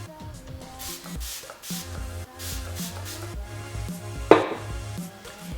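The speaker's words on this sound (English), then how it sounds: "On that same Sigma E55, I'm going to spritz it with some Fix Plus." Fix Plus setting spray is spritzed once onto a Sigma E55 makeup brush, a single short hiss that rises over soft background music.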